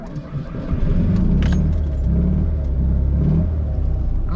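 A car engine cranks and catches, then settles into a steady low rumble close by, with a brief metallic jangle partway through.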